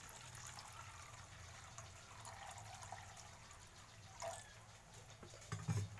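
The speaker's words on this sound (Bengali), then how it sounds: "দেখো পরিমাণ মতন আমি জল অ্যাড করব, অনেকটা দেব না।" Water goes into a pan of simmering fish curry made with pona fish. A quiet trickle and pour sits faintly over a low kitchen hum, with a brief louder splash near the end and no talking.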